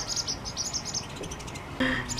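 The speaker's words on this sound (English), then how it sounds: "These poor birds are trying desperately to get back to their nest, but Sean is blocking it right now." Small birds chirp near their nest in rapid, repeated high-pitched tweets from close by, a run of quick calls followed by a brief pause and a sharper burst of chirps.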